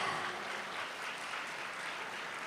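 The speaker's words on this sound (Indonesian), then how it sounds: "Berikan tepuk tangan sekali lagi" Faint, steady applause from a conference audience at an Indonesian foreign policy gathering, honoring Coordinating Minister Agus Harimurti Yudhoyono; a continuous, even wash of clapping heard from a distance with no voices over it.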